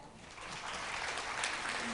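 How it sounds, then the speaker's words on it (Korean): A crowd claps steadily at the close of a cyber-defense conference panel discussion in Seoul, a dense wash of applause sustained throughout. "오진석 이사님께 큰 박수 부탁드립니다."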